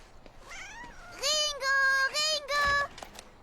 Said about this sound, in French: Descends de là, mon petit chat